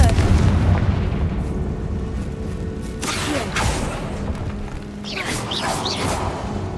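The Confringo fire spell in Hogwarts Legacy lets off heavy booming blasts, a rumbling explosion followed by a couple of sharper crackling bursts with short echoing tails.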